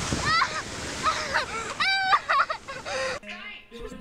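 A splash into water with sloshing, heard under excited exclaiming voices and clucking fowl-like squawks, then a quieter tail.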